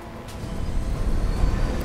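Train ride in the video game Mass Effect: a steady low rumble and rattle of rolling rail cars that builds slightly in loudness, with no talking.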